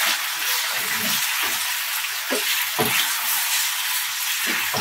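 Cumin seeds and ground turmeric sizzle loudly in hot oil in a frying pan, a steady hiss with occasional stirring scrapes, close up and with no talking.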